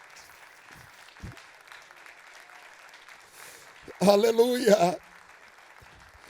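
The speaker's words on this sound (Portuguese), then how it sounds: "Vamos aplaudir o Senhor" A church congregation bursts into applause during a service, a loud clapping burst lasting about a second amid a preacher's speech and a shouted exclamation.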